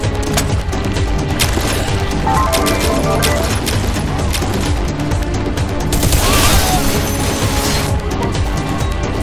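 Dense gunfire and destruction from the shooter game Bodycount: rapid automatic bursts, crashes and booms pile up continuously, with a loud blast of debris near the end, all close and loud with no talk.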